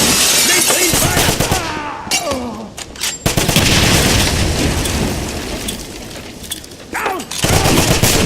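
Dense, loud gunfire from the Wolfenstein (2009) train station level, with rapid overlapping shots, crashes and a short lull near the middle. A voice shouts briefly over the shooting.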